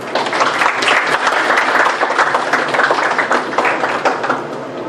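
An audience at a technology and business lecture gives loud, sustained applause welcoming an engineer to the stage, dense even clapping from many hands throughout.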